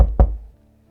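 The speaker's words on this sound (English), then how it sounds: "Bracing myself, I decided to start with a knock." A couple of quick, solid knocks on a door, close and dry, the second louder, then a short fading decay into near silence.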